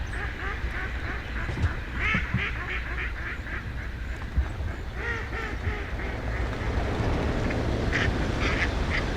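Many ducks in a flooded Arkansas timber stand quacking in repeated bursts, a dense chorus of calls over a steady wash of wings and water, close and continuous, with a few louder clusters.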